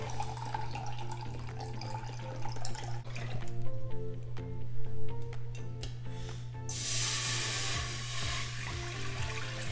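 Four cups of chicken broth pour and splash into a preheated pan over a steady hum, with a louder hiss of sizzling spray near the end.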